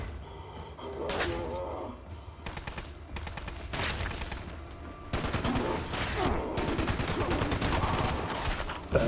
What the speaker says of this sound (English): My finest piece of shooting ever.